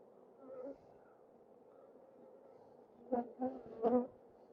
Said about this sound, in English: And now there's loads of bees in the air.